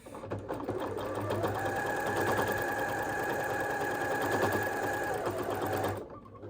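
A sewing machine quilting fabric with a walking foot runs steadily at close range, producing a continuous whirring, rapid needle chatter for about six seconds before it stops abruptly.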